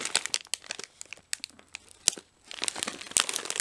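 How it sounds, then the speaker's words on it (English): A bag of Lorenz Pom Sticks Hot & Spicy potato snack is torn open up close, with a flurry of sharp crinkles and rips, a brief pause, then more crackling of the plastic packet. "let's see if we can open this easily. It opens relatively easy."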